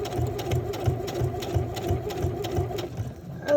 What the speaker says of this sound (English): My machine will go really fast, but I like to, it has a speed regulator, so I set it low.